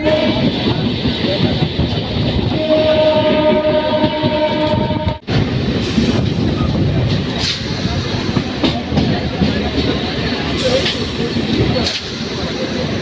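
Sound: local train running, Kalyani to Budge Budge line

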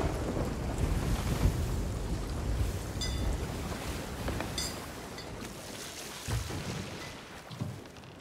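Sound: water flooding into ship at sea in video game Sea of Thieves

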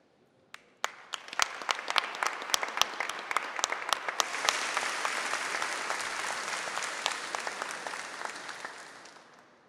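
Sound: audience applause at ceremony

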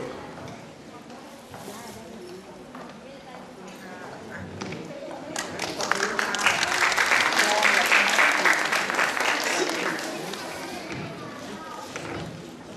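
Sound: audience applause at a concert award ceremony

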